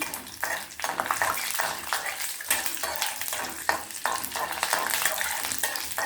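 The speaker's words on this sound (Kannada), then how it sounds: "ಒಂದು ಅರ್ಧ ಸ್ಪೂನು ಕಡಲೆಬೇಳೆ ಇದ್ದೀನಿ ಇದೆಲ್ಲ ಚೆನ್ನಾಗಿ ಫ್ರೈ ಮಾಡೋಣ" Chana dal frying in hot oil for masala dosa potato filling, a continuous crackling sizzle with scraping strokes of a spoon stirring the pan, fairly loud and close with no voices.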